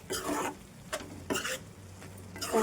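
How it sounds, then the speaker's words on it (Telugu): A spoon stirs ridge gourd curry in a pan in several short scraping strokes with a soft sizzle underneath, close and moderately quiet. "బాగా మిక్స్ చేసి స్టవ్ ఆఫ్ చేసేద్దాం"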